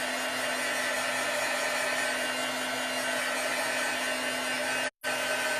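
A hair dryer runs steadily and loudly, drying freshly applied chalk paint on a crafting project, with one brief cutoff near the end before it resumes.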